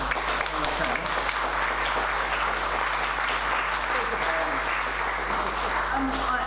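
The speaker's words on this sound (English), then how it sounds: "Can we give a round of applause to the people who have served teas and coffees" An audience at a community conversation meeting applauds steadily and loudly throughout, with a few voices mixed in.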